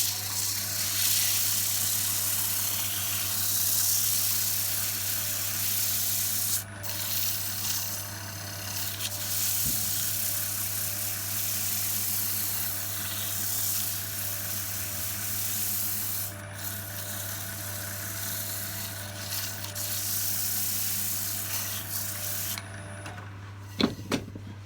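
Steady, continuous sanding of a wooden lidded pot spinning on a woodturning lathe, a close, even rubbing hiss with a constant low motor hum underneath, running alone for most of the clip before a few brief knocks at the end.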